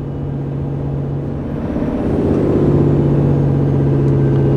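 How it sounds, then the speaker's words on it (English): A Scania R450 New Generation truck's diesel engine drones with a steady low hum, then swells into a rougher, louder rumble as the exhaust brake engages during a test drive, heard from inside the cab with no talking. "So you can see the exhaust brake now coming on automatically when I apply the brakes."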